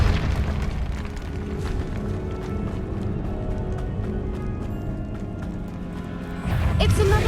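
A Convulso spell in Hogwarts Legacy bursts with a heavy boom over a continuous deep rumble, and a fresh loud surge hits near the end.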